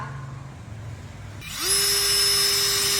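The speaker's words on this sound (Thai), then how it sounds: "เจาะให้เห็นเลยนะคะจัดๆนะคะ ระหว่างสองตัวนะคะ" After a quiet second and a half, a cordless impact drill spins up sharply and keeps running as a steady, close, high-pitched whine.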